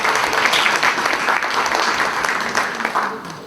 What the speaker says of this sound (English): Ladies and gentlemen, once more, a round of applause for the fantastic speakers